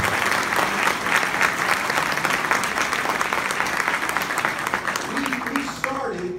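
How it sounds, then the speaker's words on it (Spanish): An audience applauds heartily, in dense and sustained clapping that fills the room, and near the end a voice begins speaking as the clapping thins. "Can we give everybody a hand that took part in putting this room together, please?"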